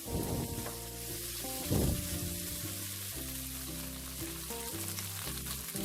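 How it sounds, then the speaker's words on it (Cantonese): Green and red chillies hit a hot wok with a sharp crackling burst, then settle into a continuous close sizzle with a second loud spit partway through as they are tossed; no voices. "爆一爆呢個青紅辣椒"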